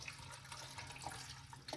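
Water splashes and runs briefly into a container, a short, soft pouring sound up close, as half a cup of water goes into beetroot juice.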